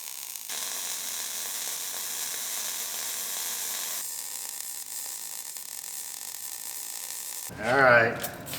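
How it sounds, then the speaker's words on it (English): Welding on PJ equipment trailer parts in a garage: a steady crackling sizzle with a faint electrical hum runs for about seven seconds, then stops and a brief louder burst of other noise follows. "Now we can weld up everything after we test fit it."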